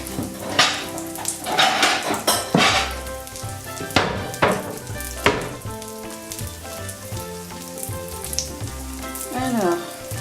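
Okonomiyaki batter fries in a hot pan, giving a continuous close sizzle with occasional sharper crackles and a few light utensil clinks over the bubbling hiss.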